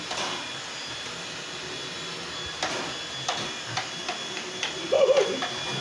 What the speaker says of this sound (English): Cat versus vacuum.